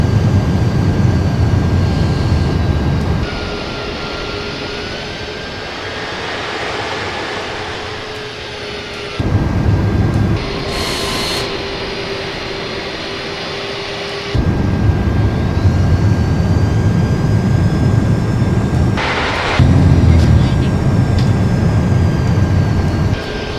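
Steady cabin roar aboard a KLM Airbus A330-300 airliner on approach, a dense engine and airflow rumble that drops and swells in distinct stretches, with a faint thin whine above it.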